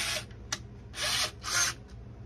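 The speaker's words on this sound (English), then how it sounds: "Try to join it in with that other hole while we're drilling" A power drill bores a hole into a B-17 model airplane wing in three or four short whirring bursts of rising and falling strength, close up, with no talk.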